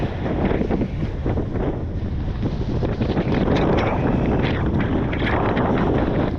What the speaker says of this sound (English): Oh, it's windy, man.